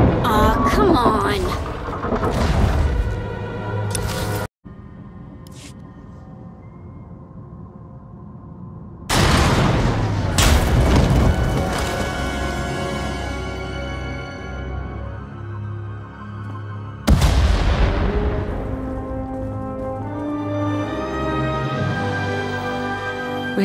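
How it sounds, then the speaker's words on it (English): Star Wars: The Old Republic game scene with heavy booming explosions and rumbling collapse of a tunnel, loud bursts recurring several times amid dense music and effects. "We heard explosions, the tunnel collapsed."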